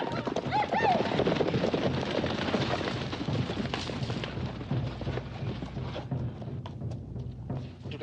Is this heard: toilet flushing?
no